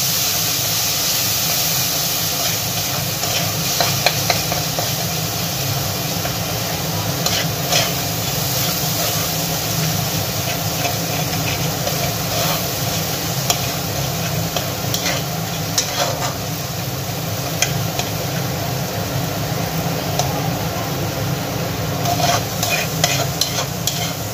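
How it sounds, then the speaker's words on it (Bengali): Ginger and onion paste fries in a pan for a Bengali dahi chicken curry, a steady close sizzle with soft repeated stirring scrapes running through, no talk. "এতে আমি আদা বাটা, পেঁয়াজ বাটা এটা দিয়ে ভালোভাবে এবার কষবো"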